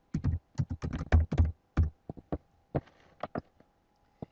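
Typing on a computer keyboard, heard alone and close: quick bursts of crisp key clicks, then sparser separate taps with short pauses between them.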